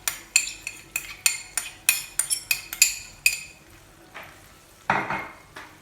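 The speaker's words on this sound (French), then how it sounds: "On commence à mélanger le veau." A spoon clinks and scrapes against a pot while veal is mixed with tagine ingredients such as sweet pepper, ginger and onion: a rhythmic series of sharp metallic taps, then a louder scraping stir near the end, close and without speech.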